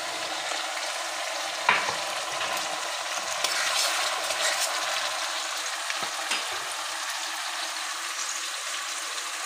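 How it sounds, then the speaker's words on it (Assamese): Onions frying in a pan for a chicken and elephant foot yam curry, a steady close sizzle with a few sharp stirring clicks against the pan. "পিঁয়াজখিনি এতিয়া অলপ ভাজি ল'ম"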